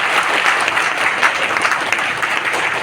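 A crowd at a political rally in Uttar Pradesh claps steadily and loudly in a dense, continuous roar of applause, with no voices standing out.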